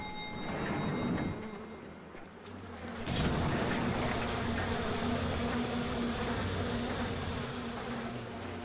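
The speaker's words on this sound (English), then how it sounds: "The bees!" Insect-like buzzing of bees in the video game Bioshock, a dense swarming drone that swells loudly after a brief quieter start and holds steady throughout.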